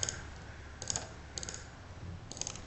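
A graphing calculator's keys are pressed in a few quiet, separate clicks, near and faint, with no talking.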